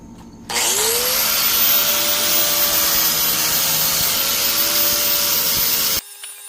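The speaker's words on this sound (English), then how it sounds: "now we are going to use a flap wheel" An 80-grit flap wheel on a power tool grinds steel on a 1957 Farmall 450 diesel front wheel, a loud, steady, high-pitched whine that starts abruptly, holds for about five seconds, then cuts off.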